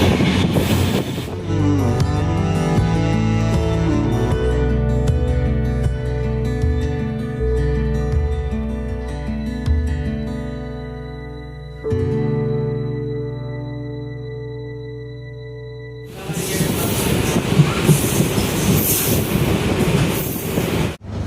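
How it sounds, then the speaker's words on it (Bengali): A train crosses from the opposite side on a single-line route near Siliguri in the Dooars: a long sustained horn-like tonal blare with wheel squeal, then a pause, then loud rolling clatter of passing coaches. "অপোজিট সাইড থেকে ট্রেন ক্রসিং করছে"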